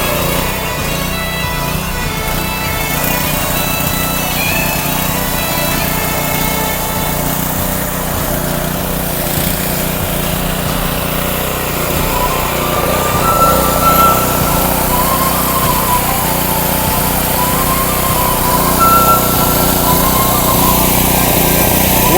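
A Subaru-engined pressure washer with a leaking gas tank runs steadily at idle, a continuous buzzing small-engine drone that stays close and loud throughout, slightly swelling near the end, with no talk over it.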